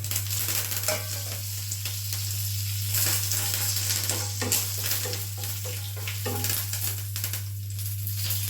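Urad dal and curry leaves crackle and sizzle in hot oil for a brinjal curry, a dense, continuous frying hiss with small popping bursts throughout and a steady low hum beneath.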